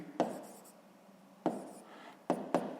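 Pen strokes on paper while working a sixth-grade math exercise on volume, heard as a few short scratchy bursts with pauses between, close and fairly quiet, with no talking.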